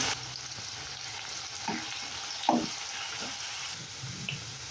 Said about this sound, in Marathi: कांदा तेलामध्ये चांगला शिजून घ्यायचा